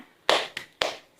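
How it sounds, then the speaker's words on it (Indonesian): A group doing rhythmic tepuk semangat clapping, three sharp claps in a quick pattern, close and clear with nothing else behind them. "Kita tepuk semangat."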